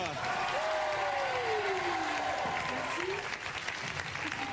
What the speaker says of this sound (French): Une ovation pour Melgroove.